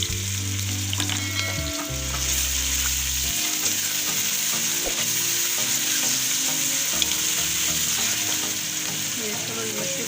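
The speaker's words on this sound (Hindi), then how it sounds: "प्याज हमारा फ्राई हो गया, हम लहसुन अदरक का पेस्ट डाल देंगे।" Onions sizzle steadily in hot oil in a pan for a chicken curry, then garlic-ginger paste goes in with a brief clatter and stirring, and the loud, even frying continues close by.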